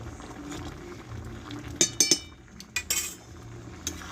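Metal spoon clinking and scraping against a pan while curry with ghee and sugar is stirred, a few sharp clustered clinks over a low background, no talk.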